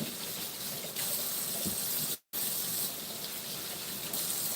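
Water from a tap gushes steadily over a spaghetti squash as it is rinsed, a loud, close, continuous splash broken only by one brief gap of silence.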